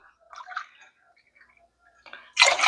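Coconut milk poured into basmati rice, with soft wet trickling and drips, then a louder splashing pour at the end, close by with no speech.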